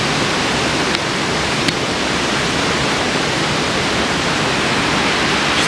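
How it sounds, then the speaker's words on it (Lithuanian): A mountain stream in the Alpine Aiguilles Rouges rushes beneath a small footbridge, giving a close, steady, broadband wash of flowing water with no voices. "Štai upelis jau, tiltelis."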